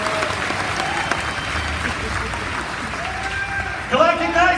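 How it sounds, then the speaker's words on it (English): Crowd applause at a Star Wars Galaxy's Edge panel event at Disney's Hollywood Studios, steady clapping throughout with a voice breaking in near the end. "Give a big round of applause."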